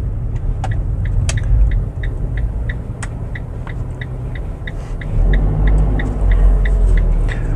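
A car engine runs steadily while driving, a low rumble with a periodic ticking, likely a turn signal, that grows louder and fuller near the end as the driver presses the clutch and accelerator.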